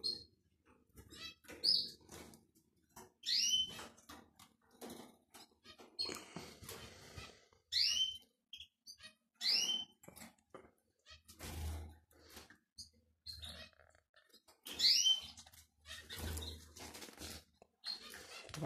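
A canary or goldfinch being hand-fed nettle gives short, bright chirps in scattered bursts, close and fairly faint, with handling rustles and clicks between calls.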